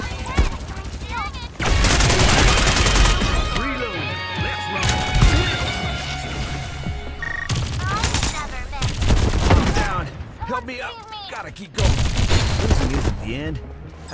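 Heavy gunfire fills a Farlight 84 match: dense rapid shots mixed with crashes and impacts, loud and continuous, with voices shouting over the fighting.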